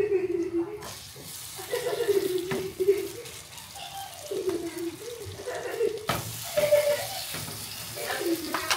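Burger patties fry in a little hot oil in a pan, a steady close sizzle with scrapes and taps as a spatula moves them, and a person talks over the cooking.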